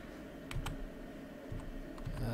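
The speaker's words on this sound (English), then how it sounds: "I'm pressing all the wrong keys." Computer keys click in a quick, irregular patter of soft taps, quiet and close up, with no other sound over them.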